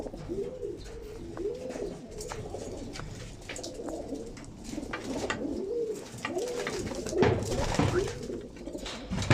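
Quality pigeons from Manisa coo repeatedly in a loft, a steady series of rolling, bubbling calls close by, with occasional faint human sounds in the background.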